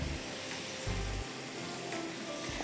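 Chicken drumsticks fry in a pan with a soft, steady sizzle and crackle that runs unbroken through the short stretch, faint and close, with no talking.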